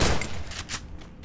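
Short burst of gunfire in the Free Fire mobile game, a few quick shots close up, fading into quieter game sounds before another sharp hit at the end.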